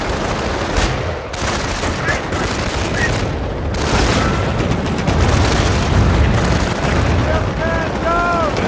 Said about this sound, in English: We've got the M3 half track with its quad mounts providing covering fire